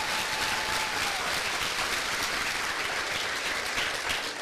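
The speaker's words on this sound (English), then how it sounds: "Give them a big round of applause." Steady, dense applause from a pageant audience greeting the Little Miss and Mr. contestants, loud and continuous throughout with no break.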